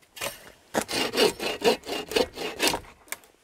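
Wood cut with a hand saw at a winter campsite: a run of about eight rhythmic, rasping strokes, close and fairly loud, with a short pause after the first stroke.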